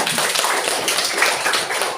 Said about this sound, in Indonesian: tepuk tangan untuk Wiranto